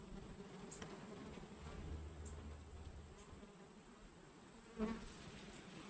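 Bees buzz steadily around a hive that survived a tropical storm, a faint continuous drone with a single louder pass near the end.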